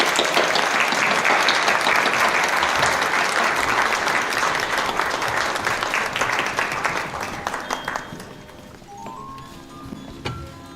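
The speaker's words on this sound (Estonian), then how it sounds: "Aplaus koertele!" Audience applause at a kindergarten spring party for children dressed as dogs: steady, loud clapping from a crowd that fades out toward the end, leaving scattered claps and faint tones.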